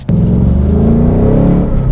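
A Ford Mustang Mach 1 with a Coyote V8 and its exhaust in track mode revs up hard, a loud, close, deep rising roar that holds briefly before easing off.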